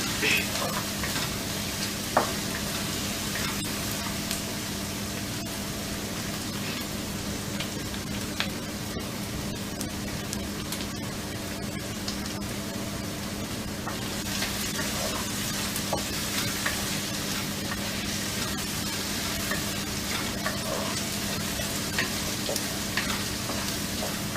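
Onion and garlic fry for a sarson da saag recipe, a constant sizzle in the pan with scattered scraping clicks from stirring, close and steady throughout.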